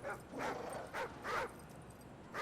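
Dogs bark and yip in bursts in Modern Warfare 3 Survival mode on the Terminal map, four or five sharp barks spaced unevenly over a low background hum, fairly close and clear, with no talking.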